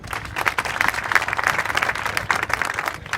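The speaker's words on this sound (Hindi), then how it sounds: "ताली बजाओ उनके लिए।" An audience at an event at the Radiant Foundation claps together, a dense, even round of applause lasting a few seconds, close and lively, with no voices over it.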